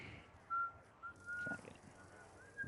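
Someone whistles a few short, thin notes in a zombie shooter game session, soft and intermittent against quiet game ambience with faint background noise.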